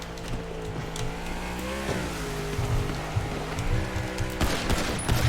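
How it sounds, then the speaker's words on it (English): Gunfire aimed at police officers in the FiveM role-play game during a boat pursuit, a rattling burst of shots over a steady engine drone, with a sharp loud crack near the end. "Shots fired! Shots fired on officers."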